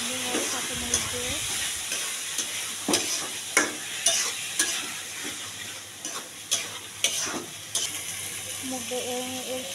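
Spices and green chilies are sautéed for muri ghonto, a fish-head dish, with sharp irregular spatula knocks and scrapes over a steady sizzle, and a voice speaking briefly.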